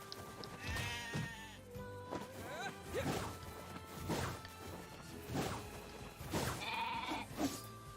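Several sheep bleats ring out one after another over thuds and smacks, with a soft background of game sounds from Nier Replicant.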